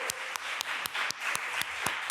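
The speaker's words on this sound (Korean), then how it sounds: "박수로 환영하겠습니다" A church congregation at a Sunday service in Detmold claps to welcome a member back from the army. Evenly spaced, distinct claps ride over a softer clapping background, fairly close.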